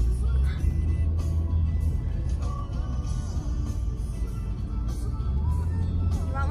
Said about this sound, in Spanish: Y tráfico.